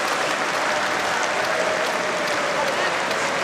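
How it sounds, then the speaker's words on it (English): Czech fans clap steadily in the stands at a Paris ice hockey game, Czech Republic versus Slovenia at the 2017 IIHF World Championship. The applause is dense, loud and continuous from a large arena crowd throughout. "that's their countrymen clapping in the stands in Paris"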